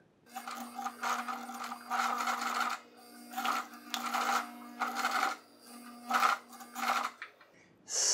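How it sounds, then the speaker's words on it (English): A sewing machine stitches a short seam to close the end of a collar band, running in close, steady bursts of rapid needle clatter separated by brief pauses. "I'm going to sew in not more than an inch to close up the end here."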